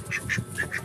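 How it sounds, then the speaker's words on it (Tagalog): A duck quacks four times in quick succession, short nasal calls close by and moderately loud, with no voices over them. "Here is my makulit na itik."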